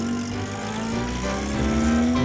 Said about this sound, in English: the buses roar past full of passengers